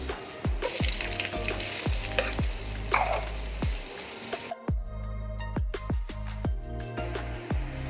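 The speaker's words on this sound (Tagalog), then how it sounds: "Ngayon po, igigisa na po natin ang ating tinola. Naglagay na po ako ng mantika." Sliced ginger sautéing in cooking oil for chicken tinola, a steady close hiss of frying with regular utensil clinks stirring the pan, and a brief louder sizzle midway.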